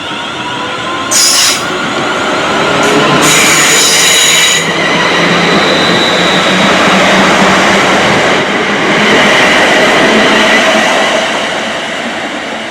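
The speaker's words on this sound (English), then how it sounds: "hopefully we get the second Avanti West Coast Livery Pendolino through Bescot Stadium" An Avanti West Coast Pendolino electric train passes Bescot Stadium, a loud, sustained rush of wheels and rail noise lasting throughout, with brief high squeals and rising and falling swells as the carriages go by, close to the listener on a windy morning.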